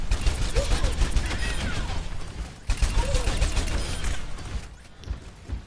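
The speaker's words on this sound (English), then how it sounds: "At close range, she has very high-powered damage with her automatic shotguns." D.Va's automatic shotguns in Overwatch fire in rapid, dense bursts with mechanical clatter, two loud volleys separated by a brief gap, continuous and close.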